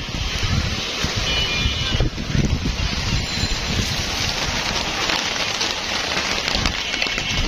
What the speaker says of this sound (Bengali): বৃষ্টি আর বৃষ্টি।